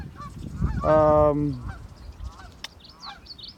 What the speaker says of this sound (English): you can hear geese coming in the background